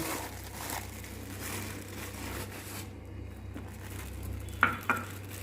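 Sugar and flour stirred together for a sweet potato malpua batter, a soft continuous mixing swish close by, ending in two sharp clinks of a utensil against the bowl.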